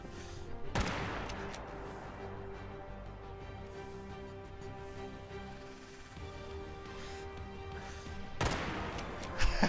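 Gunfire in the Fallout 76 video game: two sharp, loud shots about eight seconds apart, with a steady humming game ambience between them.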